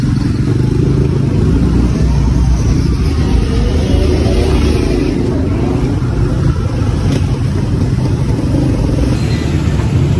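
Dense street traffic fills the scene with a steady, loud rumble of car and motorcycle engines, mixed with clatter and occasional revving, continuous throughout with no clear speech.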